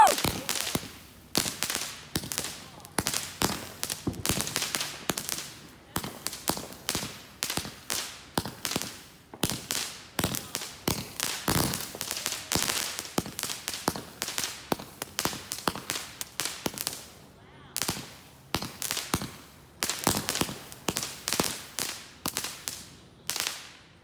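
Fireworks and firecrackers lit outdoors near an empty pool, bursting in rapid irregular volleys of sharp cracks and pops throughout, loud and close with no pauses.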